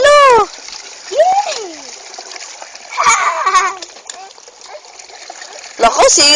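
Water is poured over someone's head in short splashing bursts that fall and trickle, close by, between excited voices talking and calling out.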